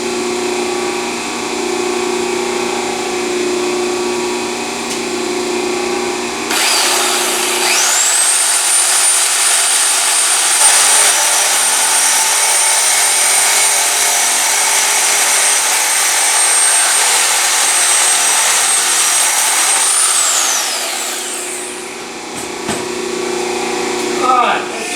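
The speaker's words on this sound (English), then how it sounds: "let's head over to the bender and cut our pipe and bring it over" Power tool cutting a metal pipe for a Ford Ranger chop-top build, a loud, sustained high whine that starts abruptly, holds steady for about fourteen seconds and then winds down, with a voice heard around it.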